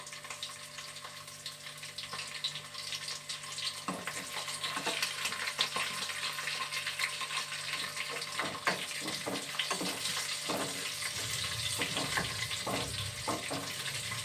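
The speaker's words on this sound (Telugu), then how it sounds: "మిరగాయలు వేస్తున్నానండి." Green chillies frying in hot oil, a continuous close sizzle and crackle with scattered sharper pops, moderately loud and steady throughout.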